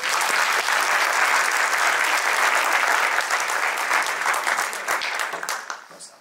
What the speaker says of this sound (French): Veuillez applaudir Julien, s'il vous plaît.